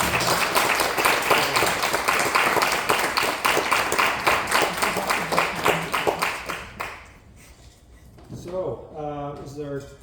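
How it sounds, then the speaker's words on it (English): Audience applause after a public reading of the play Dishes: a rhythmic wave of clapping that fades out partway through, followed by voices speaking. "Let's give him another round of applause."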